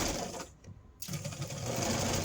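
A sewing machine stitches fabric with a quarter-inch seam for a kids' art folio project, running in a steady close whir that cuts out briefly before resuming and carrying on to the end.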